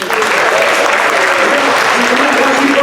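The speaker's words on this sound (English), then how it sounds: "Give him a round of applause as well." Steady audience applause at a community summit on homelessness in Monterey County, dense and continuous clapping from a large crowd filling the whole stretch at even loudness.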